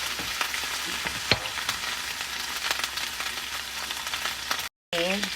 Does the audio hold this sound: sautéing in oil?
yes